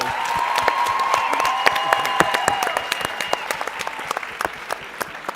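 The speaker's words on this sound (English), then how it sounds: "So can we all just give them a wonderful round of applause today?" A hall audience at a youth expo gives a round of applause, dense at first with some tonal background sound, then thinning into scattered individual claps toward the end.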